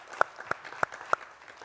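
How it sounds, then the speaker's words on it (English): Four sharp, isolated hand claps for a panel, spaced evenly a fraction of a second apart, fairly quiet against a near-silent background. "Please give a round of applause for our panel."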